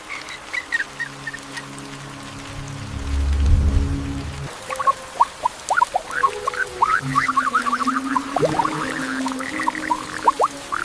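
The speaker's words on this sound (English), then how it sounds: "rain covers the nest" Rain falls over a shoebill's nest among swamp reeds at night, a low rushing patter that swells, then gives way to many close croaking frogs and scattered drips in the dark wetland.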